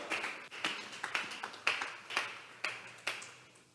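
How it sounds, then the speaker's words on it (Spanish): Church congregation clapping in unison during a Sunday worship service, a steady run of about eight sharp, even claps, moderately distant in a reverberant hall. "Vamos a regalarle ofrenda de palmas al Dios de la gloria"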